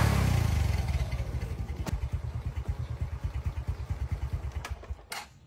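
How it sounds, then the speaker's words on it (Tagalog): A Honda Wave 125 motorcycle, mid-restoration with a fuel overflow problem, fires up and settles into a steady, rhythmic idle. The single engine's putter comes from close by, with a few sharp clicks and no talking. "Papaandarin ko muna kasi bago baklasin."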